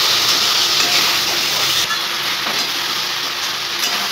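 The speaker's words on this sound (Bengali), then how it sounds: "তো মশলাটা চলো একটু কষিয়ে নিই, খুব বেশি কষাবো না" Spice paste for a fish curry frying in a pan, a steady, close broadband sizzle and hiss that runs throughout, easing slightly partway through with faint stirring clicks.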